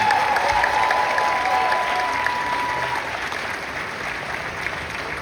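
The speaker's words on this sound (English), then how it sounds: "Please clap it up for these young men." A crowd claps for graduating students at a Los Angeles school graduation ceremony, producing dense, steady applause that fills the hall throughout and eases only slightly toward the end.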